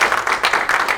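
A church congregation claps together during a Spanish-language family conference service: quick, rhythmic clapping from many hands, close and lively, in pulsing bursts over about a second.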